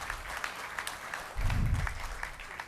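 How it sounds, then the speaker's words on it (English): Audience in a county budget hearing room clapping briefly, a short burst of steady applause at moderate distance that swells slightly in the middle before tapering, with a faint voice beneath. "But don't clap too loud and long"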